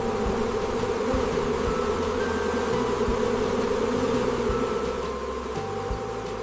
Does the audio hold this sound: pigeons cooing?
no